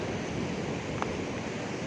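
Fairly large ocean waves wash along a beach in a continuous broad roar with a faint brief splash near the middle, steady and moderately loud, with no voices.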